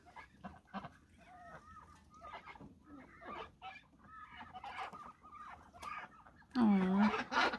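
Ducks out in the snow give a run of quacks and honks at close range, with a loud burst of calls near the end, while a person talks softly over them.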